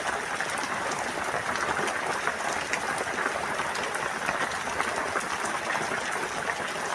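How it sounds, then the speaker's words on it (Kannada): Heavy evening rain pours down in Chincholi taluk, Kalaburagi district, North Karnataka, making a dense, continuous hiss of falling drops at an even level for the whole stretch, with no voices. "ಮಳೆ ಸುರಿಯಕ್ಕಂಥದ್ದು ನೋಡ್ಬೇಕಿಲ್ಲಿ."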